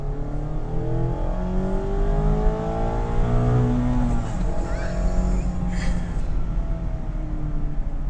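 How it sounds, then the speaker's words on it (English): Naturally aspirated engine of a 2019 Mazda MX-5 RF with a louder exhaust, revving and wailing as pitch rises and falls through the gears, loud and steady, with a voice talking briefly over it. "Don't get me wrong, turbos are great, but nothing beats a wailing NA engine."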